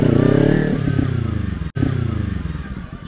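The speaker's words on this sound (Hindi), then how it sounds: "ऐसे पट पट करके निकल रहे हैं ना बैक फायर्स।" Sports motorcycle, a Ninja 300 or ZX-10R, with loud close engine drone and sputtering exhaust crackles popping irregularly as the revs fall, a brief cutout in the middle, with a rider talking over it.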